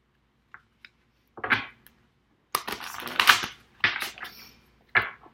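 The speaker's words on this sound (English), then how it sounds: "So I'm going to pull a Romance Angels Oracle card for you now." Romance Angels Oracle cards are handled and pulled from the deck: close, crisp papery flicks and shuffling rustles arrive in short separated bursts against near silence.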